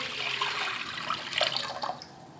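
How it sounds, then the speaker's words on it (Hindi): Water poured into a large saucepan set on a stove, a continuous close splashing and gurgling stream that fills the whole moment without talk. "मैंने ये सॉस पैन रखा है, बड़ा एक देगचा ले लिए चूल्हे पे, और इसमें मैं डालूँगी पानी"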